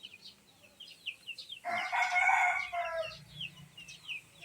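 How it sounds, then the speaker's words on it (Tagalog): A rooster crows loudly nearby while hens cluck around it, with birds chirping in the background of a quiet rural provincial setting. "Ito yung manok ko doon na"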